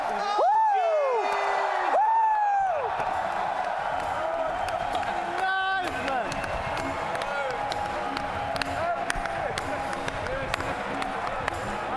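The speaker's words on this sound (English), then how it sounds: "please give the biggest round of applause to your TI 2018 champions" A large esports arena crowd cheers and claps for the Dota 2 TI 2018 champions, with roaring cheers and whoops under loud music and announcer-style talk throughout.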